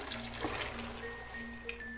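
Water poured into a pot of masala-fried red beans (lal lobia) for rajma, heard as a soft continuous trickle and splash with a steady background hum and a few faint clinks.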